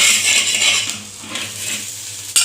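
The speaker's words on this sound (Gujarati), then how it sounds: "હવે આપણે રોટલાની સાઈડ ચેન્જ કરી લઈશું" Millet flatbread (havijiyo rotlo) flipped on a hot griddle greased with ghee, giving a steady close sizzle that thins midway and ends in a sharp, brief clatter.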